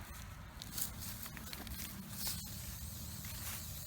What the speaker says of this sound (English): going to spray paint our targets orange to start.